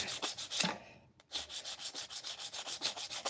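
Wood is sanded by hand with rough 80-grit sandpaper in a first pass, giving rhythmic close scratchy strokes in a steady back-and-forth pattern, broken by one brief pause near the middle.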